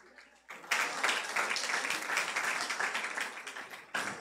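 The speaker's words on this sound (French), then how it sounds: "On l'applaudit, lui aussi" An audience bursts into applause for a man called up at a celebration, dense clapping starting abruptly and holding steady for several seconds before tapering, with a fresh surge at the end.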